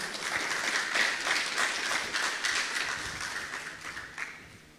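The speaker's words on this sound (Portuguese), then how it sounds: "Você pode dar uma salva de palmas a Jesus?" Congregation applause in a church after a sermon prayer, a steady, moderately faint wash of clapping that tapers off near the end.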